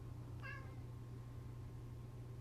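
A single short cat meow, faint and somewhat distant, heard once over a steady low background hum.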